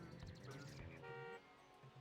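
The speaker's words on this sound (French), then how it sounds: "il faut le klaxonner." A car horn toots in a short burst amid busy Diddy Kong Racing N64 game sound effects and engine noise.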